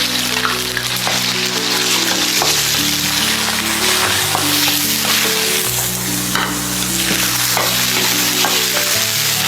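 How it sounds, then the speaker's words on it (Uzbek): Minced meat fries in hot oil in a kazan for Uyghur lagman: a loud, continuous close sizzle with stirring scrapes throughout, and faint tonal music underneath. "Mayni endi go'sht solamiz."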